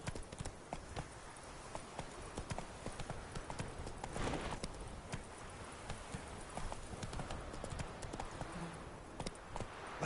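Rhythmic clip-clop of horse hooves in a PS4 video game, steady hoofbeats at a moderate pace, fairly quiet and heard alone.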